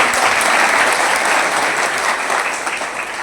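Loud, sustained applause from an audience at a Salute Tiranga nationalist organisation gathering, many hands clapping together in a thick, even roar that eases slightly toward the end.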